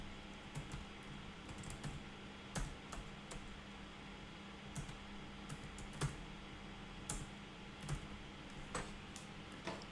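Steady typing on a computer keyboard, quick soft clicks with occasional sharper key strikes over a faint background hiss, continuing alone throughout while software such as Power BI Desktop is being searched for.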